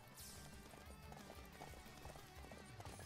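Steady rhythmic hoofbeats of a horse galloping in Samurai Warriors 5 thud along at a quick pace, moderately close, over a busy game background with no speech.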